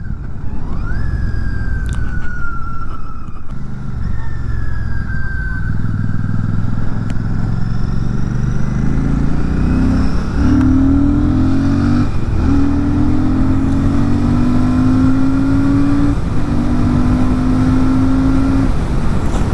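A Royal Enfield Classic 650 motorcycle accelerates with a loud, close engine note that climbs steadily in pitch as it gathers speed, running unbroken throughout.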